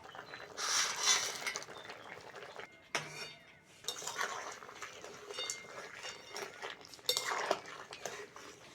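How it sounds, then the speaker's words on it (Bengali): Fried lentil dumplings (bori) dropped into a boiling vegetable curry, heard as bursts of clattering pot and utensil noise with splashy bubbling, brief pauses between, fairly close. "ঝোল ভালোভাবে ফুটে গেছে, ভেজে রাখা বড়িগুলো এবার দিয়ে দেবো।"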